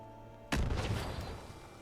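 A grenade explodes in the video game Fallout 76, a single sudden loud boom after a half-second of quiet that rumbles and fades slowly over the next second and more.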